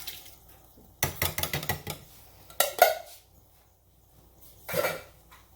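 A pot of chili with canned diced tomatoes and chilies is stirred in short bursts of scraping and clattering against the pot, separated by near-silent pauses.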